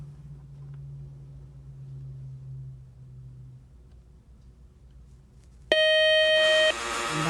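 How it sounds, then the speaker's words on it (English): After a quiet stretch, a loud electronic quiz buzzer ending a high school quiz match blares for about a second, a harsh sustained tone that cuts off abruptly. "that buzzer means the end of our match"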